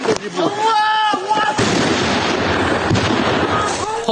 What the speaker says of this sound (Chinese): 画面中这名士兵准备用火箭炮回敬。